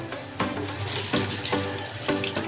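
Tap water runs steadily while a doll's hair is rinsed under it, a close, continuous splashing stream with a few louder gushes and no talking.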